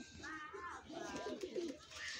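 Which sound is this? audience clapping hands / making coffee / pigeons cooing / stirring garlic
pigeons cooing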